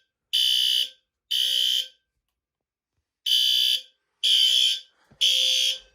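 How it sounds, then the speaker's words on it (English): A home fire alarm horn strobe in a garage, set to low volume, sounds five short, harsh electronic blasts of about half a second each with uneven silent gaps, close and clear during a system test. "we have a regular horn strobe low volume."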